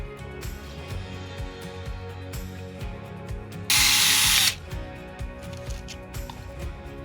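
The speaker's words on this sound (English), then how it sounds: "Now for drilling the hole, I'm putting some wood under the pot" A single loud, whining burst of a power drill boring a hole in a cement pot set on wood, lasting under a second, standing out against a steady, rumbling background.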